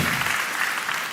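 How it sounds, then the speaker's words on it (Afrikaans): Church congregation applauding during a Sunday service, a dense, steady wash of many hands clapping. "Kan ons sommer vir hulle hande klap."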